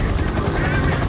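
A helicopter's rotor thrums in a steady, loud, unbroken drone with a rough low pulse running through it.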